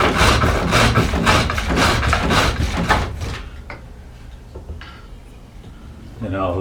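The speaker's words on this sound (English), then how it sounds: "Now I'll come back to this bigger skew to clean up beside it" A skew chisel cuts a wooden stool stile spinning on a treadle-cord lathe, giving a rapid run of rhythmic scraping strokes that stops abruptly, followed by quieter light touches and faint knocks.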